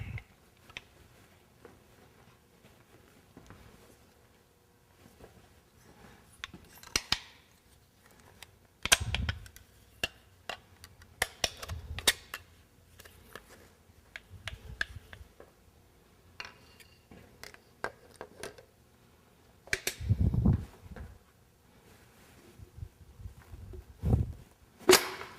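During an Olds V8 engine build, a piston is fitted into its bore in a quiet workshop. Scattered metallic clicks and taps come in sparse, irregular bursts, with a few louder knocks among them.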